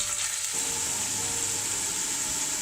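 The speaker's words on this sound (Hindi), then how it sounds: "पाँच मिनट के लिए हम प्याज को फ्राई करते हैं" Onions fry in a pan for chicken pulao, producing a loud, steady hiss of sizzling oil that stays even throughout.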